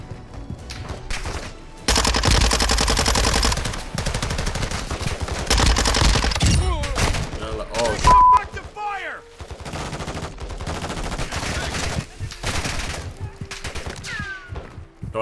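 Gunfire in the video game Call of Duty Warzone 2.0 DMZ, with dense bursts of automatic fire followed by scattered shots and whizzing effects, loud and close. Players talk intermittently through it.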